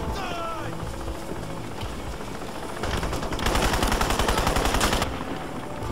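Rapid gunfire in the video game Crysis, a dense burst of repeated shots that grows louder midway and then drops back, over a noisy game soundscape.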